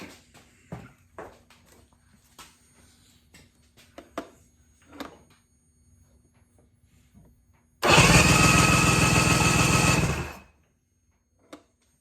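A Mercury 90hp two-stroke outboard roars at wide-open throttle for about three seconds, loud and close, then cuts off. Quiet clicks and handling noises come before it.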